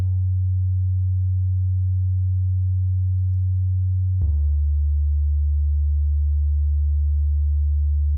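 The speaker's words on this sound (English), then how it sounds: "this, which is a electronic bass" An electronic synth bass used as a fake bass in a metal mix plays two long sustained low notes, pure and tone-like, the first lower and the second stepping up midway, steady and loud with no other sounds.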